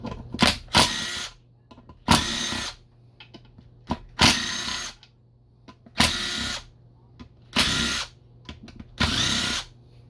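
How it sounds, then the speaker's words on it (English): A power tool buzzes in six short, loud bursts spaced a second or two apart while backing out the bolts of a transmission valve body, with quiet pauses and faint handling noises between bursts. "Take all these bolts out except for this one right here."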